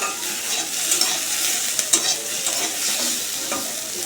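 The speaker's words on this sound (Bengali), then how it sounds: "আর এইখানে বসিয়েছি উচ্ছে আলু পেঁয়াজ দিয়ে ভাজা" Bitter gourd, potato and onion frying in a pan, a dense continuous sizzle with occasional stirring scrapes, close and steady, with no talking.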